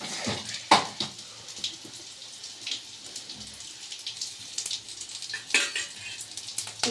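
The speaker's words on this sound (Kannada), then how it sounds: "ಜೀರಿಗೆ ಚಟಪಟ ಅಂತ ಸೌಂಡ್" Mustard and cumin seeds crackle and spit in hot oil, a steady close sizzle broken by sharp pops and a few louder bursts, with no talk.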